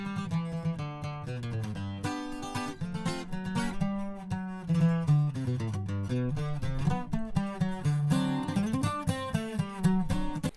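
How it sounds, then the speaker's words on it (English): A dry rhythm guitar track with no effects, recorded for a corridos and rap mix, plays steady, close chords in a driving, repeated strumming pattern for about ten seconds with no voices. "So for example, the rhythm guitar sounds like this,"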